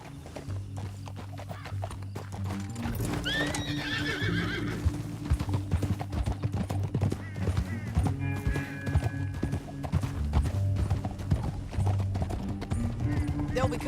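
Horse hooves clatter at speed in Red Dead Redemption 2 as riders chase through a canyon, with a loud neigh near the start and steady galloping under game music and spoken dialogue.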